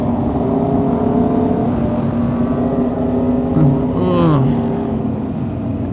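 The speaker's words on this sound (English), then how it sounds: "Steve, out here popping wheelies and shit. Stoppies, warm up these tires" A Kawasaki Ninja H2R hyperbike with a blacked-out carbon fiber tail is ridden through wheelies and stoppies, its engine a steady drone with a brief rising rev near the end, over constant road and wind noise.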